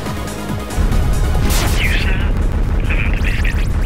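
Booming explosions from a video game, like small fireworks going off, sound loud and dense. A steady roar and crackle keeps going, with a rising whoosh midway and a sharp burst near the end.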